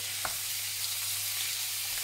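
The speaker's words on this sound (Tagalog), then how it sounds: "Pa-brownin natin itong baboy na to." Pork sizzling and frying in a pan while browning for adobo, a steady close hiss with one brief stir or scrape near the start.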